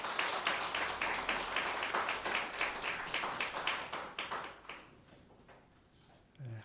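A church congregation claps together in a steady, rhythmic run of many hands for about four seconds, then the clapping thins and fades, with a faint low sound starting at the very end.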